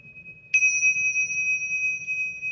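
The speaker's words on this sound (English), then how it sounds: "Frequency of the bell scratches my brain." A bell is struck once, a bright ding that rings on in a long, steady, sustained resonance over a soft low background hum.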